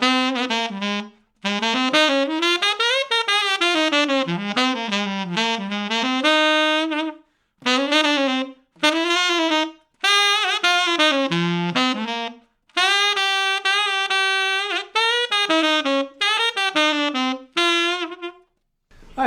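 A jazz saxophone solo from the bridge of the first chorus of a song, played alone as clear, close melodic phrases with bending notes, separated by short pauses between lines.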